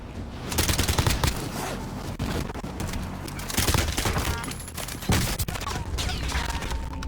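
Rapid weapon fire in the video game Warzone, with dense bursts of gunshots cracking through busy game noise over about seven seconds, loud and close throughout.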